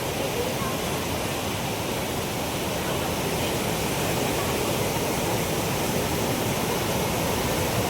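The Gundicha Ghai waterfall in Keonjhar roars continuously, a loud, dense, unbroken rush of falling water heard up close, with a voice faintly speaking over it.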